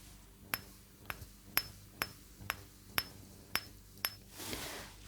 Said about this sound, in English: the glass sound is consistent across the forehead.